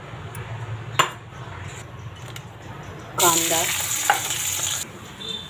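Oil bursts into a loud sizzle in a wok partway through, hissing steadily for a couple of seconds after a few light clinks of utensils, as bangda (Indian mackerel) fish is fried.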